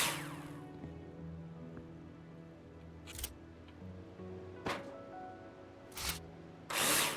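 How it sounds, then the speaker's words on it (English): A power drill whirs continuously while screwing metal wall profiles into place in Builder Simulator, with several brief sharp bursts cutting through the steady hum. "Now place them in the hologram and screw them in with a drill."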